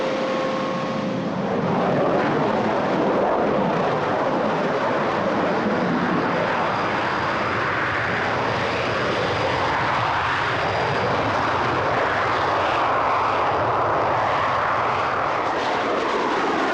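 RAF aeroplanes taking off at RAF Marham in 1989, a loud sustained engine roar that swells and rumbles continuously with no voices over it.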